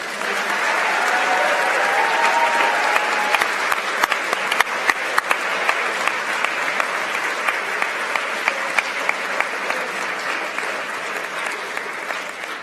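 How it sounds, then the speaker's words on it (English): Sustained applause from a seated audience at a high school awards ceremony, loud and steady for the whole stretch as team members stand, a dense wash of clapping with no talking. "Team members, please rise to receive our applause."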